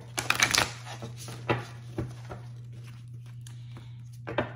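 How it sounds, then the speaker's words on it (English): A very large oracle card deck is shuffled in a quick riffle burst, followed by a few softer taps and shuffles, close up and otherwise quiet. "So let's give it a nice shuffle here."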